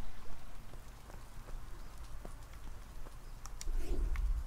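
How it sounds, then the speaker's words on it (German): Rain patters steadily in the farming game Deiland, a soft even wash of drops with a few light ticks and a slightly louder stretch near the end; no voices. "Regen ist eigentlich ganz gut."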